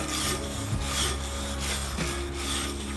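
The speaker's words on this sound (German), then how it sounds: "Polieren, bis der Arzt kommt." A surface is polished by hand with steady, rhythmic rubbing strokes, close and fairly loud, a rasping back-and-forth repeated about once per second with no talk.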